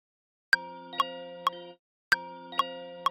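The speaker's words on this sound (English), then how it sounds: "going into the standard bell sound" A synth bell plays in a hybrid trap beat: two identical phrases of three bright, ringing struck notes, each leaving a short sustained tail, clean and isolated.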